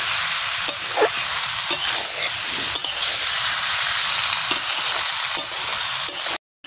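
Goat meat fries with a loud, continuous sizzle in a pan while being stirred, with scattered clinks and scrapes close by. The sound cuts off abruptly near the end.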